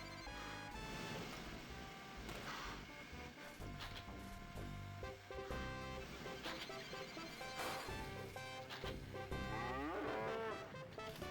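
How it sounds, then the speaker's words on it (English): A cow moos in the WWII GI video game, its lowing clear over a dense, continuous bed of game music and sound effects, with no talk. "Nice cow."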